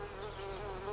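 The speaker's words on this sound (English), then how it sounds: "let's just do an experiment and see if a bee comes up to..." Steady close buzzing of a bee hovering among thyme and borage in a garden, continuous and fairly loud with no talk.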